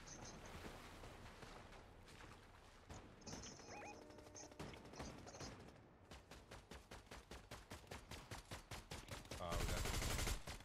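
Rapid rifle gunfire from a Fortnite match, loud bursts of shots in a steady rhythm, with a heavier sustained burst near the end, over game sound effects.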